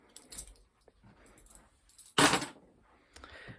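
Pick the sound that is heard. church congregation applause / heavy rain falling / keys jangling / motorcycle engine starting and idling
keys jangling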